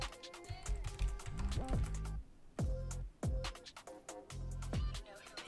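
Quick bursts of key clicks on a computer keyboard typing a word in a quiet room, uneven rhythm with short pauses between clusters of taps.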